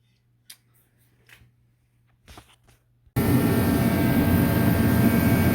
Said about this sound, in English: now I'm going to take the angle grinder, flap disc, start cleaning up all these